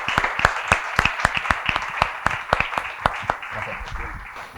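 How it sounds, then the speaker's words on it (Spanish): Sparse applause at a reading-club conference, distinct individual claps in an irregular rhythm from a small audience, thinning out toward the end. "Un aplauso para nuestro amigo"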